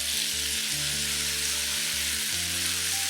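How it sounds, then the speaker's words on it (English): Salted soya bean paste frying in a hot pan with garlic and ginger gives a loud, steady sizzle that continues unbroken throughout, with a low tonal hum underneath. "continue to fry them till they are fragrant. Next, add in the salted soya bean paste."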